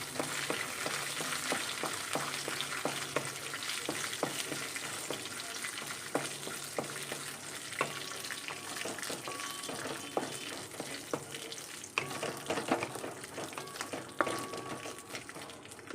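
Cashews frying in a pan, a steady crackling sizzle that runs the whole time with scattered sharp pops and faint stirring scrapes, close and moderately loud, with no voices.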